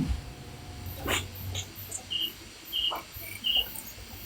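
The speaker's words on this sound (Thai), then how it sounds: "จิ้งหรีดมันอยู่ปากหลุม" A cricket at the mouth of its burrow gives a few short, high chirps in quick pairs, with scattered soft low thumps and rustles nearby.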